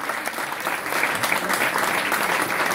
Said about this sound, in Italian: Vorrei che questo applauso fosse per tutti i candidati, rifacciamolo con massima forza per i nostri candidati